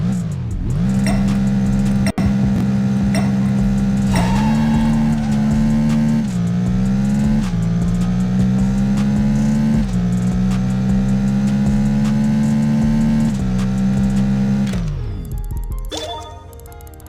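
Engine roar from a NASCAR car in the mobile racing game Apex Racer, held at a loud, close drone across a half-mile run with brief dips at each gear change. One sharp click lands early, and the sound tapers away in the final seconds.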